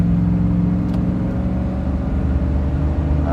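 A car drives in traffic, its steady engine drone and road rumble loud and close throughout, with no voices.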